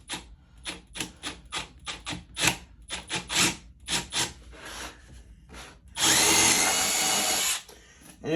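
Milwaukee and Ryobi power tools work together on a band saw job, a string of short, sharp clicking and buzzing bursts followed by one loud continuous run of about two seconds, close by with no voices.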